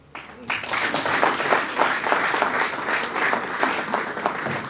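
Steady, dense applause from an audience at a Project Management Institute annual conference, rising quickly and holding loud for several seconds, with some voices mixed into the clapping.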